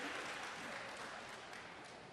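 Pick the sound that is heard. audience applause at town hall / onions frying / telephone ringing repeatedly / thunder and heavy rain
audience applause at town hall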